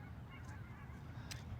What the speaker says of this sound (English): Canadian geese probably heading for the...